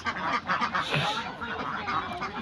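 A flock of about 125 egg-laying ducks on a farm quacks loudly and close by, with dense overlapping calls that continue without a break.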